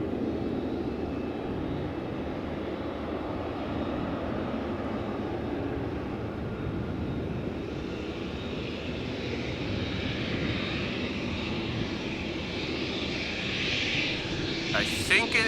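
A Cargolux Boeing 747 jet engine roar at Amsterdam Schiphol Airport, a steady broad rumble that swells toward the end as the aircraft draws nearer, with a voice talking over it.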